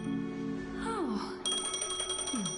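A phone rings inside a video game, a bright repeating electronic trill entering partway through and continuing steadily over sustained tonal game music and swooping synth sounds.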